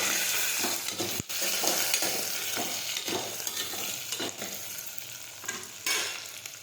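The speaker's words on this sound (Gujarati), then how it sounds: "હવે આપણે સાતળી દઈશું।" Stuffed brinjals (eggplants) sizzling in hot oil with asafoetida, with a steady crackle broken by repeated stirring scrapes against the pan.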